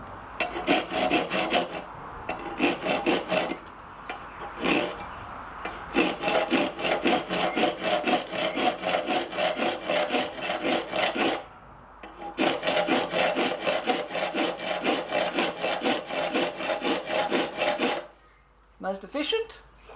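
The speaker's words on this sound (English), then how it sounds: "let's cut some wrought iron" A hand hacksaw cuts a piece of wrought iron, with rapid rhythmic rasping strokes in long runs broken by short pauses, loud and close, and brief sounds of handling at the end.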